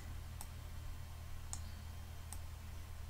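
Three sharp, isolated mouse clicks spaced about a second apart while a brush size slider in a pixel art editor is dragged, over a steady low hum with no voices.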